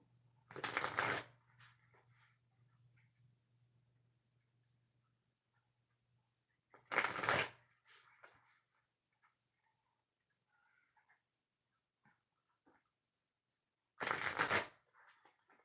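Tarot oracle cards are shuffled in three separate quick bursts, each a crisp riffling flutter about a second long, spaced several seconds apart with near silence between.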